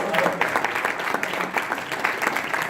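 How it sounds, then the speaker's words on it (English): An audience at a training session gives a steady round of applause, dense clapping that stays even and sustained from start to finish with no voices over it. "a huge round of applause to Ajeya."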